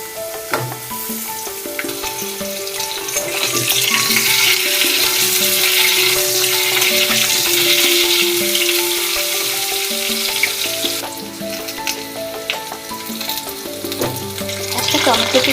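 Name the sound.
raw banana and potato frying in a pan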